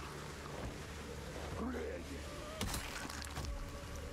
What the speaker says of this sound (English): Try and avoid this rain.